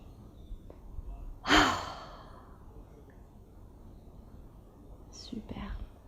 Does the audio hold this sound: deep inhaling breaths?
yes